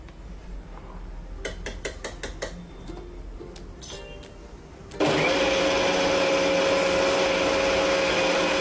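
An Indian kitchen mixer grinder whirs into a loud, steady high-pitched grind of masala paste for Butter Mutter Paneer Masala, preceded by clinking of the lid and jar being handled.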